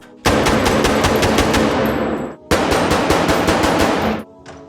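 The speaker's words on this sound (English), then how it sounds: "Nick quickly realizes from the accuracy shooting of Merriman that he is no shit kicker" Rapid bursts of automatic gunfire at a gun range in a crime film, two long loud fusillades with dense rhythmic shots, the second ending in a short trailing echo.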